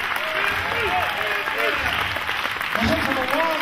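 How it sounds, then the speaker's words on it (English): Wrestling audience applauds wrestler David Finlay at an independent show, continuous clapping with crowd noise while someone talks over it. "A well-deserved ovation for a fine young man."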